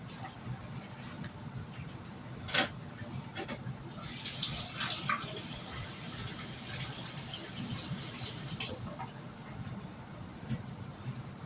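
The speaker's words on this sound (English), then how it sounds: "Let me wash my hands right quick." Tap water runs steadily for several seconds as hands are washed at a kitchen sink, with a soft splashing hiss and light clatter before and after, fairly quiet.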